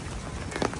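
Rain falls during a 10 km road race, a faint, steady patter of drops on surfaces with a few slightly sharper splashes near the end and no talking.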